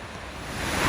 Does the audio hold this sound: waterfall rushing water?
yes